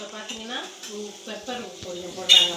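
An egg fries in a pan with a soft, close sizzle and some stirring clatter, heard beneath a voice speaking over it.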